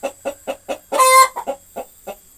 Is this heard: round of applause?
no